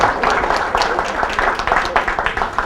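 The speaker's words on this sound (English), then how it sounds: "Give her applause." A small audience gives a short burst of applause, quick uneven claps layered over a voice speaking at the same time, brief and moderately loud.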